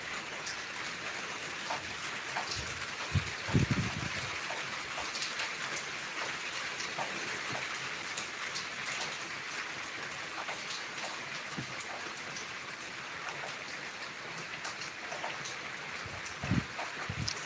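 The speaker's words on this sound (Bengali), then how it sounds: "গতকাল থেকে বৃষ্টি হইতেছে" Steady rain falls on a rainy day, a continuous even hiss of drops on surfaces with a few scattered louder taps. It is soft and distant, with no voices.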